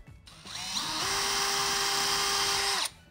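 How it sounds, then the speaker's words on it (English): A power drill fitted with a 3/16 inch bit bores a pilot hole into bathroom wall material, a steady high whine that runs for about two seconds after a brief spin-up, loud and close, with no talking. "Drill in my first location here."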